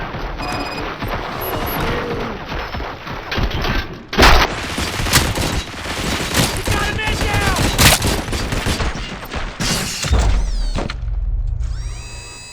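Gunfire in the video game RoboCop: Rogue City, with loud, rapid automatic bursts and overlapping shots rattling almost continuously, punctuated by sharper blasts, with some game voices mixed into the din.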